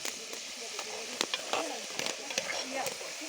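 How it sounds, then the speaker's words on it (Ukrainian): Potatoes fry in a cauldron outdoors, giving a steady close sizzle broken by frequent clicks and scrapes of stirring, with brief faint voice in the background. "Ось картопля дожарується."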